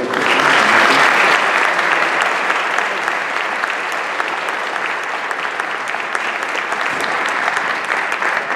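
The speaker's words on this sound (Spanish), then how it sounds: "os pido para él un fuerte aplauso" Loud, sustained applause from a large audience at an advertising association's 50th anniversary event in Madrid, dense and even throughout without a break.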